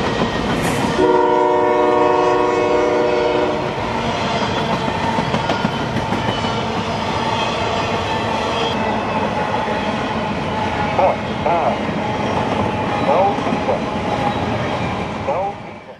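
An empty freight train on a reroute from Taft, Orlando toward Jacksonville passes close and loud near Lakeland Junction, its horn blaring in the first few seconds over a steady rumble and rhythmic wheel clatter that continues to the end.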